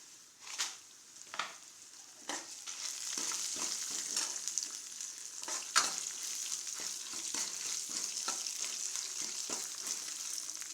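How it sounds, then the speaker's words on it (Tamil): Dried red chillies fry in hot oil for tomato chutney, starting with a few separate crackling bursts and settling into a steady, fairly quiet sizzle with frequent small pops and no speech. "லைட்டாக செவந்த நிறம் வந்தோடனே வரமிளகா போட்டுக்கலாம்."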